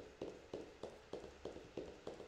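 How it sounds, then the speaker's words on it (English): Footsteps of a chasing enemy in the horror video game Power Drill Massacre, seven faint, evenly spaced thuds in a steady walking rhythm. "I swear I could hear multiple footsteps there for a second."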